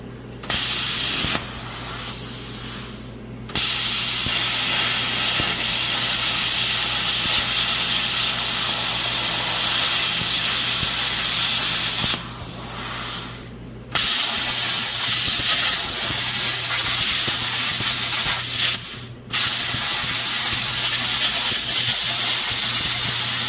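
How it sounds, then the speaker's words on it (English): A handheld plasma cutter slicing through metal in a shop, a loud steady roaring hiss in long stretches broken by short pauses, with a low electrical hum underneath. "We're going to cut along that line with a plasma cutter"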